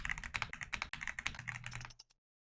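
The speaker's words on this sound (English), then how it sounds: "it didn't let me finish typing" Rapid typing on a computer keyboard during an online strategy game session, a dense run of close, clicky keystrokes for about two seconds before stopping abruptly into silence.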